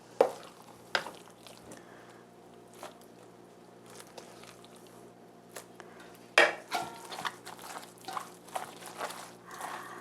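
Drained mustard-leaf kimchi being tossed and mixed with seasoning paste by hand in a bowl, giving soft wet squelching and rustling with occasional knocks against the bowl, a few sharper clatters, and no talking.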